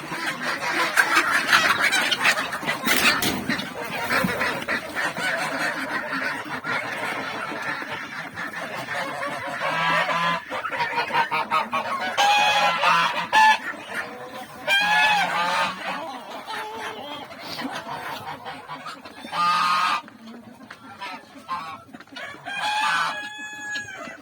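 A flock of geese honk loudly and repeatedly, mixed with rooster crowing and hen clucking, busy farmyard calls overlapping throughout as the poultry are let out in freezing weather.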